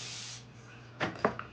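A quiet hiss fades out, then a few short, close bursts of spray follow in quick succession, the last one softer.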